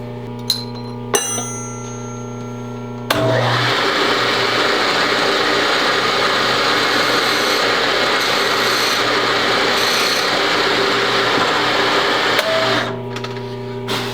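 A drill press bores into the wood of a Browning Citori shotgun stock, a steady loud grinding whir running about ten seconds between the motor's quieter hum before and after, with no talking.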